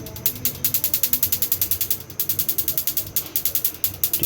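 A gas line compressor machine runs nearby with a loud, rapid rhythmic ticking and pulsing, steady pulses about ten per second broken by one short pause midway, no talking.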